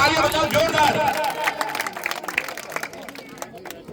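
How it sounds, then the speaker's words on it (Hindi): Crowd applause for a local man being honoured at a Congress party event in Pali, Marwar, Rajasthan, a sustained wash of clapping that gradually thins and softens over a few seconds. "जोरदार ताली आपके यहाँ के आदमी को तालियां बजाओ जोरदार"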